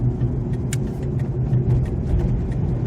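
A pickup truck carrying a Christmas tree rumbles past nearby on a rural road on Prince Edward Island, a loud, steady engine and tire roar that holds throughout.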